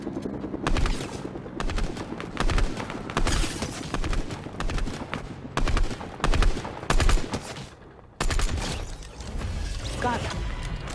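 Gunfire in a video game shooter, with loud cracking shots coming in dense, uneven bursts and clusters across the whole stretch. There is a brief drop in level near the end before the firing resumes.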